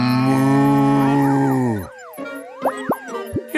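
A cartoon cow on a farm lets out a long, loud, sustained moo that fades away, followed by bouncy, warbling comic sound effects with sliding pitches.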